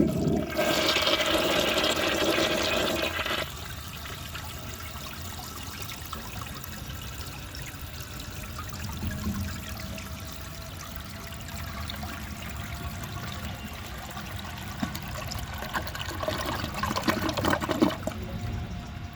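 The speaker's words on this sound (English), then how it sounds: "It certainly flushed differently that time" A 1966 Crane Whirlton low tank toilet flushes a washcloth, starting with a loud rushing surge that drops after a few seconds into a long, steady gurgling trickle as the tank refills, swelling slightly again near the end.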